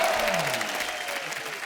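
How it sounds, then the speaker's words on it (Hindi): Brief burst of studio audience applause on a comedy talk show set, dense clapping heard alone at moderate loudness, with a faint musical tone under it. "तालियां भाई"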